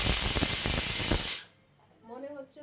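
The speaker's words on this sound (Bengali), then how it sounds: "তো এই যে প্রেসার কুকারে সিটি মারতেছি" A pressure cooker releases a loud, steady hiss of steam that cuts off abruptly, followed by a quiet pause and faint voices.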